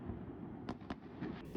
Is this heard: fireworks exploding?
yes